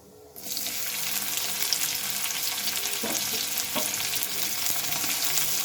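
Chopped onion drops into hot oil with whole cumin seeds and erupts into a loud, steady hiss after a brief quiet start, with a couple of faint utensil knocks beneath the sizzle.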